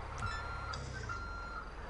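A clothes dryer beeps in a repeated high electronic tone, short chirps spaced evenly over a steady low background hum, moderately faint and with no speech.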